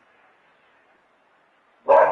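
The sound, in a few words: dog barking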